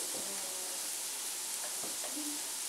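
Food sizzling steadily in a hot pan with a sprinkle of fleur de sel from Ile de Ré, a constant close hiss left undisturbed, with a couple of faint soft knocks.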